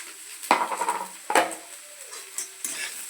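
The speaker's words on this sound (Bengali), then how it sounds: "দেখো, এবার আমি চিড়েটা ঢেলে দিলাম" Flattened rice (chira) is poured into a pan of cooking meat and stirred, making a few sharp scraping strokes with a soft sizzle in between, close and clear.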